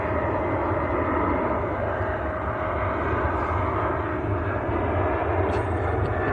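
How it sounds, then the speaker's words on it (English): An Etihad Boeing 777 taxiing at Manchester Airport gives a steady, broad engine rumble and roar that stays loud and even throughout, with no talking. "Etihad 777 taxiing out as well."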